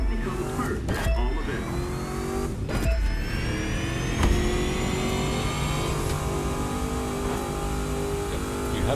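A car engine in The Crew 2 revs and climbs through the gears in a drag race, rising whining tones swelling repeatedly with sharp shift breaks and a hint of nitro boost, loud and continuous throughout.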